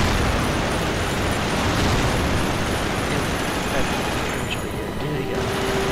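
Dense, continuous battlefield din from the PS2 game Medal of Honor Rising Sun, with rumbling explosions and gunfire packed tightly together at steady loudness throughout, and no distinct breaks between blasts.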